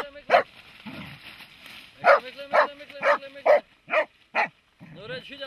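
A hunting dog barks repeatedly during a hoofed-game hunt, a series of loud, sharp barks in an irregular rhythm, with a few quieter whining sounds in between.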